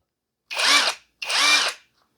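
A ProEuro cordless impact wrench set to minimum torque runs in two short bursts of about half a second each, loud and close, with a brief pause between them.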